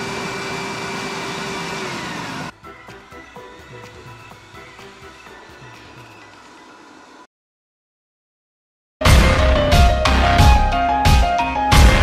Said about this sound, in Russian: сегодня у нас на обзоре промышленный пылесос Datsprom